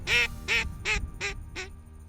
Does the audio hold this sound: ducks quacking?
yes